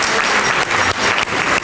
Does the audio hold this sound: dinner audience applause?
yes